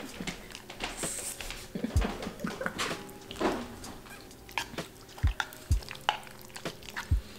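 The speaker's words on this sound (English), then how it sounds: "I'm just gonna mix it all up." A spoon stirs oatmeal mixed with cashew yogurt milk, making soft wet scraping and squelching sounds with occasional sharp taps against the bowl, close and alone.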